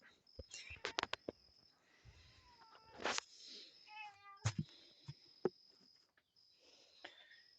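A cat meows several times in short, rising calls, close by, mixed with scattered clicks and rustling noises.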